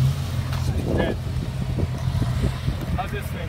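A Jeep engine rumbles and revs while working through off-road mud, a steady low drone with brief pushes of throttle, as people talk over it.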